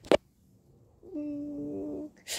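A cat voices a short, faint meow-like call of about a second in a quiet room, preceded by a brief click.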